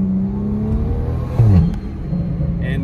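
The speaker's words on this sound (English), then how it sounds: "Just finished welding up the exhaust. Sounds amazing, as you can hear." A car with a freshly built forged BMW N55 engine and a new stainless TIG-welded exhaust idles close by, then gives one quick sharp rev around the middle and settles back to a steady idle.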